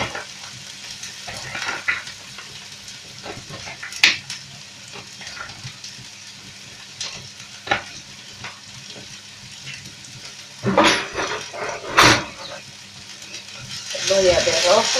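Red onion stir-fried in oil for a squid and broccoli dish hisses and crackles close by, with a steady low sizzle broken by scraping stirs and utensil clicks against the pan.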